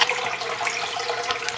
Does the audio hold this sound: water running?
yes